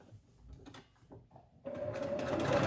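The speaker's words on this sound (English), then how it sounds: "finish sewing along the bottom of your nose wire, creating a little casing for it" Close-up sewing machine stitching a casing along the nose wire of a child's fabric face mask: a few soft handling clicks and bumps, then the motor kicks in with a steady, rapid buzzing run that grows slightly louder.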